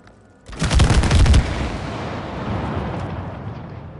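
Close, loud burst of gunfire in the It Takes Two video game, a rapid cluster of shots lasting about a second, then a long rumbling decay with no talking.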